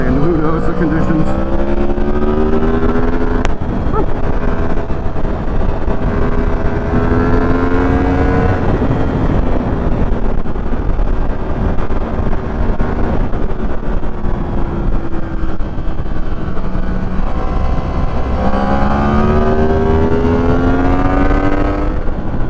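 A Yamaha MT-10 motorcycle riding on an open road, its engine loud and close, revving up through the gears in rising sweeps, easing off in between, with steady wind roar underneath.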